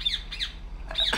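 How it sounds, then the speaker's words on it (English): A bird in the video game Republique gives three harsh, rising squawks, the last one loudest, over a low steady background hum. "What the hell's up with that bird?"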